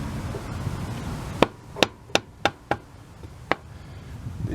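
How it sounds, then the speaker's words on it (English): A tool taps the engine cover of a Honda CT110 trail bike to free it, giving six sharp, close knocks spaced unevenly over a low background hum. "To remove the cover you may need to tap it."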